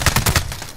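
Rapid burst of close, loud gunfire from Call of Duty: Modern Warfare, about four quick sharp shots followed by a brief decaying tail.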